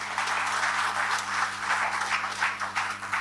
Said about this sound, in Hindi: हमारी माता, परिवार की माता मीरा मैम के लिए जोरदार तालियां